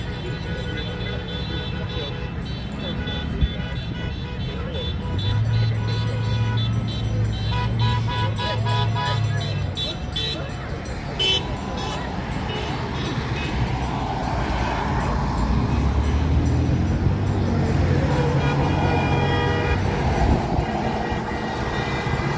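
Backed-up highway traffic on Hwy 95 in Kootenai County during a roadside protest: a steady, loud rumble of idling and passing cars with short horn toots. Voices can be heard over the traffic.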